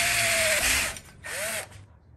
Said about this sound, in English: now I'm going to start drilling, doing a progression of drill bits till I can get the M8 bolt in